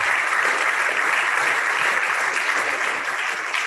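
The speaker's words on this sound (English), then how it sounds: "I want you to give them a big round of applause" A hospital audience at an intern information session gives a big round of applause to the medical education team, a dense, steady wash of many hands clapping at once, sustained and fairly loud.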